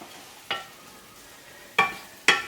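Mushrooms being stirred and coated in a buttered pan, with three short scraping strokes spaced apart over a low, steady background.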